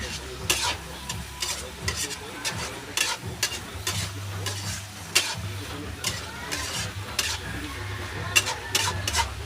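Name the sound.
stirring sizzling bitter gourd (ampalaya) in pan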